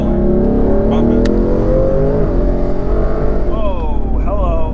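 A 1000-horsepower twin-turbo Mustang GT accelerating hard from inside the car, a loud rising engine drone with climbing pitch and turbo whine, while occupants talk over it.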